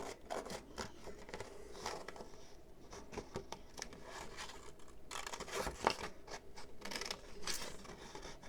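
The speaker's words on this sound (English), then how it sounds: "Now, as I cut this shape out, I'm going to leave these tabs on." Scissors cutting out a paper circle shape with tabs for a 3D paper cactus craft, a close series of crisp snipping and rustling cuts in an irregular rhythm, with no talk.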